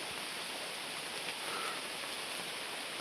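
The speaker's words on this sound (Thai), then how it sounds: "ฝนตกพี่น้อง" Steady rain falling in a forest hisses evenly throughout, a soft, continuous wash of drops with no other sounds standing out.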